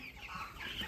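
Faint clucking from 18-day-old poultry chickens in a farm flock, a soft, brief murmur of bird calls lasting about a second.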